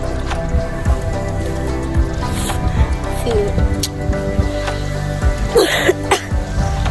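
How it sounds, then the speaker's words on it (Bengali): Rain falls steadily outdoors, a continuous close patter with scattered drips and soft thumps, loud throughout and with no talking. "বৃষ্টিটা পড়তেছে, দেখেন বৃষ্টিটা পড়তেছে"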